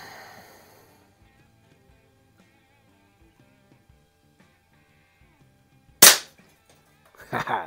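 Two sharp shots from an air rifle firing pellets at targets, one loud crack mid-clip and another a second later, separated by near silence with faint music fading out at the start.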